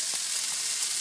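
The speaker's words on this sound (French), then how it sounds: "je peux faire une pause pendant que les oignons reviennent" Onions sizzle steadily as they fry in a pan for a quick creamy tuna pasta sauce, a close, even crackle with no voices.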